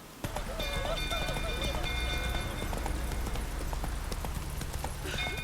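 In The Witcher 3: Wild Hunt, a horse gallops with a steady, rapid clatter of hooves under game music and ambience, while someone talks over it throughout.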